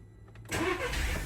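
A 2010 VW Golf petrol car with a faulty alternator cranks briefly and fires up, the quiet cabin giving way to a loud, steady idle close by.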